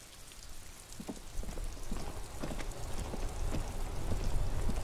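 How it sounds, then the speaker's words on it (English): Steady rain in the video game Disco Elysium patters down with scattered droplet taps, a continuous wash of downpour that grows slightly louder toward the end, with no voices. "It's raining."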